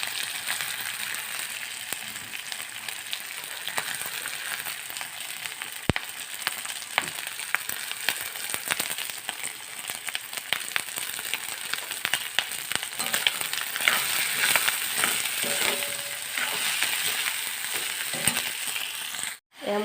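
Cooked rice fries in a hot pan, a steady close crackling sizzle with scattered clicks and scrapes of stirring throughout, ending with a brief drop near the finish.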